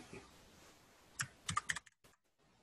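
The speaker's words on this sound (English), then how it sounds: "There's these little codes you can do on your computer keyboard by holding Alt and hitting numbers" Several quick keystrokes on a computer keyboard, a short cluster of crisp clicks in a quiet room, then silence.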